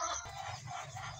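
Chickens cluck and murmur close by in a brief, busy burst of farmyard sound at feeding time.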